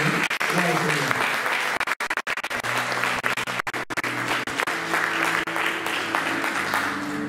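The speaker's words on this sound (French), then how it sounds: "Est-ce qu'on peut acclamer le Seigneur pour ces bien-aimés?" A church congregation in Nantes applauds the Lord together, a steady dense wash of clapping that runs throughout with voices and tonal music mixed in underneath.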